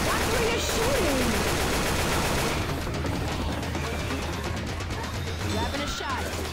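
Heavy gunfire in the zombie shooter Left 4 Dead 2 on the Cold River campaign, loud overlapping bursts and volleys that continue without a break, with game voices calling out over the shooting.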